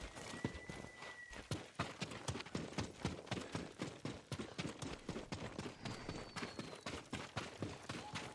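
Several horses clip-clop steadily at a walk in Ghost of Tsushima, their hooves making a dense, even run of close, crisp knocks that carries on without pause.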